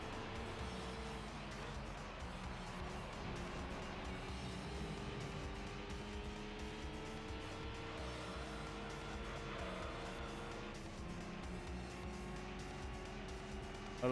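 Racing cars in Gran Turismo 3 run continuously, with steady engine drone and shifting pitch from a car and rivals as it jostles past an FTO; tire noise mixes in, sustained throughout at even loudness.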